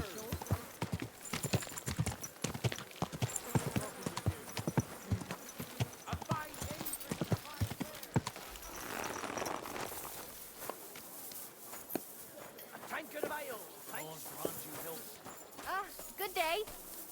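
Walking horse hooves clip-clop steadily in Kingdom Come: Deliverance 2, close by, then fade under a wash of ambient noise and voices later on.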